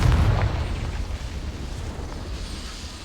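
A Confringo explosion spell goes off in a video game: a heavy low boom bursts at the start, then a rumbling tail that fades away over a few seconds.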